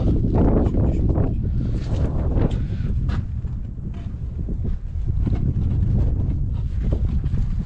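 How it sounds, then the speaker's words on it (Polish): Strong wind gusts across an outdoor building site where lintel formwork is being braced, buffeting the microphone with a continuous loud roar that rises and falls. "Ale wieje tutaj z tej strony."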